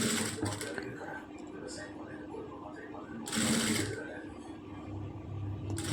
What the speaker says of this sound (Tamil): அந்த பைப்பிங் பாருங்கள் கிளாத்தில் வச்சு ஒரு சைடு மட்டும் ஃபுல்லாக அப்படியே தையல் போட்டுட்டு வரேன்